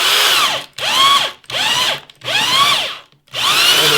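Drill bit boring into a wooden log in loud, close bursts, about five whining runs of roughly half a second each, the pitch sagging under load and recovering, separated by brief pauses, with no voices.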